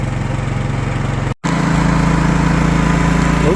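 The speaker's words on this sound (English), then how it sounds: "sped up the engine on the generator" A Predator 11500 generator engine runs at a steady, loud drone powering a motorhome, briefly cutting out for a moment before resuming and revving up with a constant hum.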